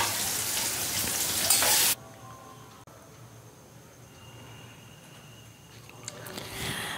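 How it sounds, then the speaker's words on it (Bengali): Chopped onions hiss and sizzle loudly in hot oil as they start frying for a mutton liver curry, then the sound drops to a low, quiet simmer with faint stirring. "দিয়ে একটু নাড়িয়ে, আস্তে আস্তে নাড়িয়ে পেঁয়াজ ব্রেস্তাটা করে নেব।"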